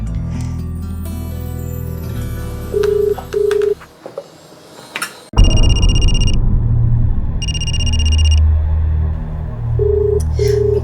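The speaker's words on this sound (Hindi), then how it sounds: "Pick up the phone Ritu." A telephone rings in short electronic bursts, repeated in a regular on-off pattern over background music and scene noise in a TV drama.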